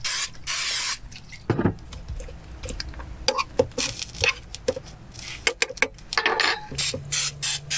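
A few short hissing bursts of cooking spray, up close, separated by clicks and clatter of a pan or utensils, while cooking shrimp with Cajun spice.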